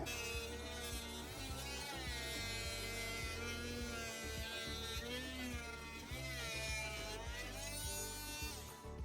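A rotary tool fitted with a diamond bit cuts through rotten siding at a roofline, giving a loud, steady, close buzzing whine that holds continuously with small shifts in pitch.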